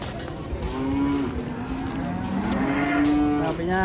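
Cattle moo loudly and repeatedly at a farm, several drawn-out calls overlapping one another close by against a murmur of background activity.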